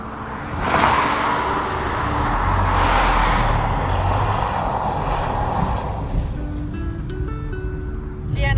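A car rolls along a rainy English country road, its broad steady road and engine rumble filling the cabin, with rain or tyre hiss over it throughout.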